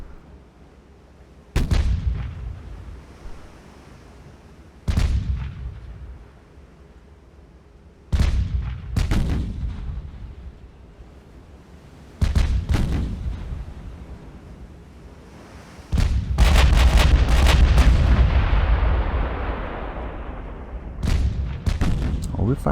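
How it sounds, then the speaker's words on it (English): Warship main guns boom in the naval video game Ultimate Admiral: Dreadnoughts, about six heavy blasts spaced several seconds apart, each rumbling away over a constant wash of ocean waves and wind, with a voice talking at times. "Are we firing the main guns at destroyers? Sure are."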